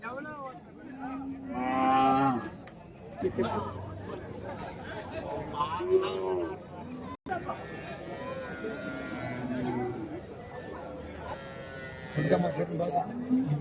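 Calves and cattle mooing at a Friday livestock market in Krishnagiri district, with several loud lowing calls rising over steady crowd chatter and people talking nearby.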